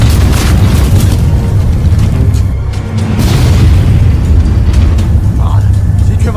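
Cannon fire and explosions roar through an animated tank battle, forming a loud, dense, continuous rumble of booms with voices shouting over it.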